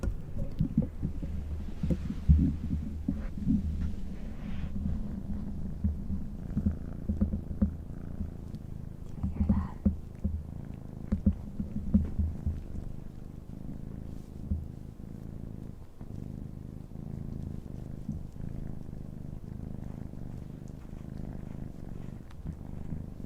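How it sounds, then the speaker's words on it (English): A cat purrs close up in a continuous low rumble, with soft rustling and small handling sounds scattered through. "You can hear him purring?"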